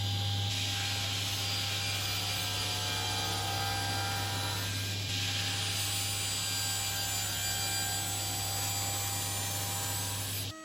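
A wooden box lid is cut down to size under a constant loud power-tool whine, with a low steady hum beneath the cutting noise. The sound runs unbroken for about ten seconds with no talking.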